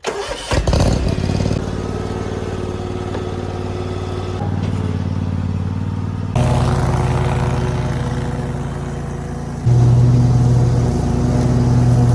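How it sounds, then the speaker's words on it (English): A finish mower with a raised deck starts and then runs steadily while cutting a clover food plot, its engine droning close by and shifting pitch and load several times. "we're going to go ahead and use the finish mower and just raise the deck up"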